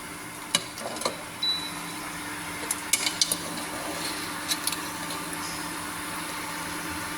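Ladle stirring crispy banana chips coated in syrup in a pan, with scattered scrapes and clicks of the utensil against the pan over a faint steady sizzle.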